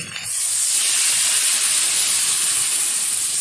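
Water hits a hot pan of frying ginger paste, garlic paste and chopped tomato masala, bursting into a loud, steady steamy hiss that carries on without a break; close, no speech.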